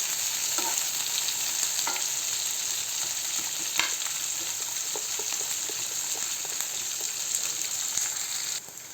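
Onion and garlic sizzle steadily in hot oil in a pan for a paneer curry, a loud continuous crackle with occasional stirring scrapes and ticks, no voices.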